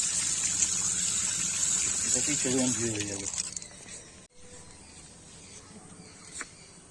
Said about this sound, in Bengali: এবার আমটাকে একটু ধুয়ে নিতে হবে